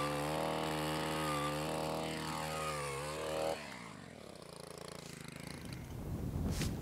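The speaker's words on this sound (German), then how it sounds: "Mit dem Bohrer wird ein Loch vorbereitet." An engine-driven earth auger drills a hole in the forest for planting a small oak tree, running at a steady, loud drone before the pitch drops as it bites into the ground.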